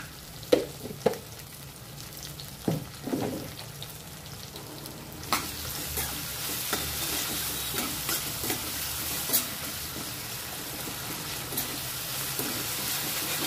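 Onion sizzles in a pan for semiya upma while being stirred, starting with scattered scraping knocks and then swelling into a loud, steady frying hiss dotted with spatula scrapes, close up with no voices.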